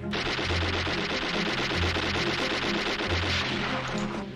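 Dense, sustained automatic gunfire from a World War II film battle between soldiers and German troops, rapid continuous bursts filling the scene at close range with no pauses.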